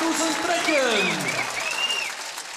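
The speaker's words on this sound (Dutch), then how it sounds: "Applaus voor de kampioenen" Applause for the champions at a Frisian outdoor sports event, crowd clapping heard briefly beneath a voice speaking over it, with rising and falling tones.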